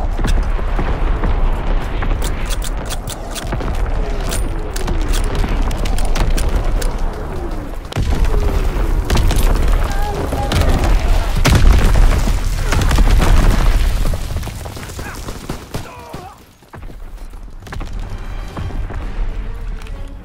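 Artillery battery firing with heavy booming explosions in Call of Duty WWII, a dense continuous barrage of deep blasts and rumbling impacts over about twenty seconds, with a brief lull near the end before firing resumes.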